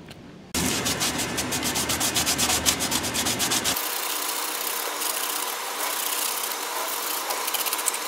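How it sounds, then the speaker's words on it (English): Wet sanding of a composite frisbee gives a rapid rhythmic rasping scrub at close range, then a steadier, smoother rubbing hiss continues alone to the end. "After wet sanding"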